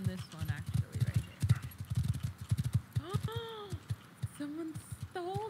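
Horse hooves clip-clop in the video game Rust, a quick, steady run of hollow knocks that fills the first half and returns in bursts, while voices talk over it.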